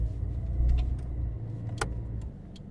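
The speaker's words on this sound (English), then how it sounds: "foot on brake, we go into drive, the revs drop accordingly" Low rumbling engine of an Australian Mitsubishi Magna Mk1 at close range, shifted into drive and pulling away, steady and moderate, with a few faint clicks and light rattles over it.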